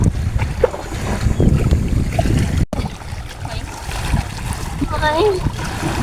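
Seaside ambience on the rocky shore at Ang Sila, Chonburi: water splashing and wind buffeting the microphone, with people talking over it and a brief cut midway.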